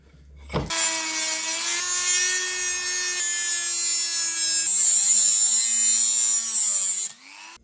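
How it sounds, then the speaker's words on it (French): A Dremel rotary tool grinding a workpiece held in a vise, a steady high-pitched whine with a shifting pitch partway through, running continuously close up for about six seconds before stopping. "Après un petit coup de Dremel et ça devrait être bon."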